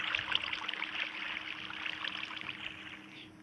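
A river near a cave, its banks broken away, flows with a faint, steady rushing and trickling sound, quiet and continuous with no voices.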